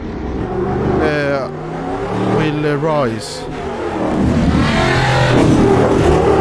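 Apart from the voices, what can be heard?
Stadium Super Truck engine revving, Automobilista 2 video game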